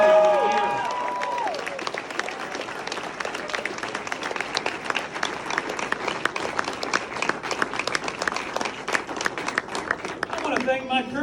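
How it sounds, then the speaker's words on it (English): Sustained audience applause at a primary election night rally for a politician, loud and continuous throughout with a dense crowd of clapping and some cheering, speech fading in near the end. "Let's give them a big round of applause for everything they've done."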